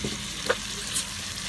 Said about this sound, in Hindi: अब इसको हल्का सा फ्राई करेंगे